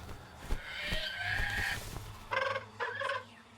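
Bird calls in The Lord of the Rings: Gollum video game, a gobbling, clucking fowl-like voice in bursts with quiet gaps between, with no speech over it.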